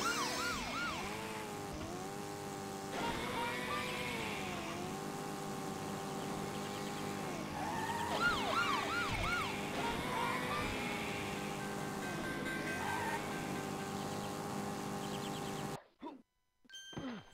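Miniature cars and other vehicles in the 1996 video game Ignition, with steady engine drone overlaid by wavering siren-like wails throughout, continuous and fairly loud before cutting out abruptly near the end.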